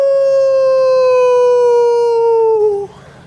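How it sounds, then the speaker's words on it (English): A crowd at a sprint car race night howls together at the moon, one long sustained loud wail that slowly falls in pitch and then cuts off sharply. "it is time before our last feature of the night to howl at the moon"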